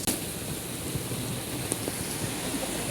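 Heavy rain pours in a steady, dense roar, loud and close, with no talking over it.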